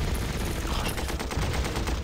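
Machine gun fire in the World War II strategy game Panzer Corps, a dense rapid rattle of shots that continues steadily and loudly through the short stretch.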